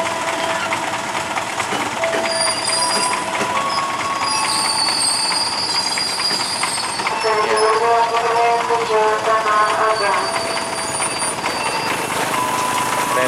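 KRL commuter train, a JR 205 set, arriving at Tigaraksa station: loud continuous rumble of railcars rolling in, with rising metallic wheel squeals and screeches midway, heard close up throughout.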